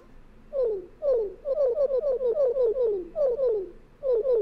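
Jinjo creature calls from the Banjo-Kazooie video game in a quiz round, a series of short descending chirping squeaks repeated in quick rhythmic bursts, clear and alone.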